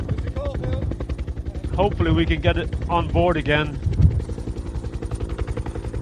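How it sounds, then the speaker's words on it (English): A Bell twin-engine helicopter comes in to land right overhead at a sea stack, its loud rapid rotor chop pulsing steadily throughout while a person talks over it. "It's coming right over us now, this Bell twin-engine helicopter"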